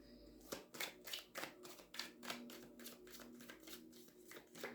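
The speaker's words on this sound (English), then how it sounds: "One more butterfly shuffle." Tarot cards from a Phantom Wise deck riffled in a butterfly shuffle, a rapid run of crisp flapping bursts close to the mic, each riffle ending in a soft slap, with no talking.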